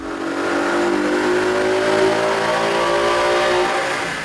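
A 2015 Ford Mustang GT with a Roush cold air intake, no Venturi insert and a 93-octane tune revs hard on a chassis dyno. Its V8 engine roars loudly and close up, the pitch rising steadily and then easing off.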